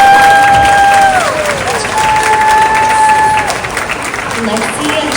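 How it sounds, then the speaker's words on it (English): Audience applause for queen contestants at the 73rd Cherry Blossom Festival in Honolulu, Oahu: steady crowd clapping with some cheering, fading slightly toward the end while a voice speaks over a PA. "Let's give them a big round of applause."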